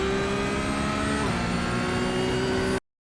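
A Porsche GT3 Cup car in iRacing runs at full throttle, a loud sustained engine whine that holds near one pitch and dips slightly partway through before cutting off abruptly.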